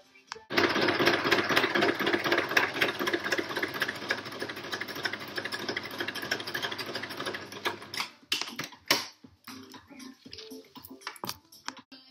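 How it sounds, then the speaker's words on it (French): An electric sewing machine stitches a long seam down fabric, a fast loud continuous chattering run for about eight seconds, then short stop-start bursts and clicks as the stitching ends. "vous faites une couture sur toute la longueur à 1 cm du bord"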